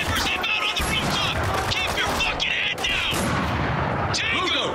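Sniper and other gunfire in Spec Ops: The Line, a dense run of loud sharp shots and crashing impacts with no break, with game voices shouting in between.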